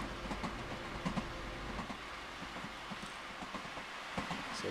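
A DB BR 1442 electric commuter train in Train Sim World's Cross Town rapid transit route runs steadily, with a continuous rolling rumble and scattered clicks and wheel knocks over the track, no talking.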